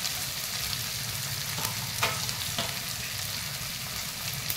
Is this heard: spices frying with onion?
yes